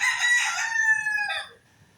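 A small Benjarong-coloured bantam rooster from breeding stock gives one loud, close crow. The shrill drawn-out call lasts about a second and a half, then breaks off into quiet.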